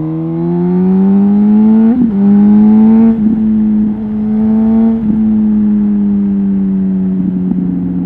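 A Suzuki GSX-R motorcycle engine revs hard and steadily for about eight seconds, loud and close, with the throttle twisted and the pitch wavering and dipping briefly between pulls.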